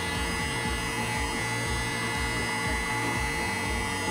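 A heat gun runs steadily, warming modeling clay on a cracked dashboard of a concept car sculpture, giving a constant close, loud blowing whir with a low electrical hum and no talking.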